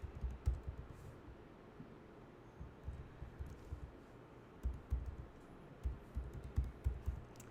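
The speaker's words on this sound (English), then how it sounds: "I'll press T in the keyboard and this time I'll type Canvaholics." Soft keystrokes on a computer keyboard come in quick irregular bursts, fairly close but quiet, with short pauses between typed runs.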